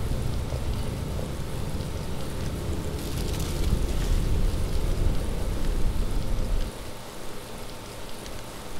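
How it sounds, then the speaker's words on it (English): Steady rain falling in the video game Dead Island, a continuous broadband hiss with a low rumble that grows slightly louder midway, then drops after about seven seconds, with no talking. "Oh, it's raining."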